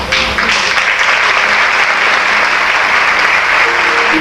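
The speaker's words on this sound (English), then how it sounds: "And then came the time when there was a first round of applause." A crowd applauds loudly and continuously, a dense wash of clapping that holds steady throughout.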